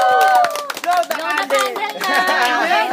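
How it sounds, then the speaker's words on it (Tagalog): A family claps together at a surprise birthday celebration for their mother. The clapping runs through the clip, mixed with cheerful voices and children talking over it. "Palakpak."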